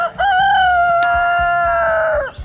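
A homestead rooster crows once nearby, a loud drawn-out call held for about two seconds before dropping off, with faint low farm noise beneath.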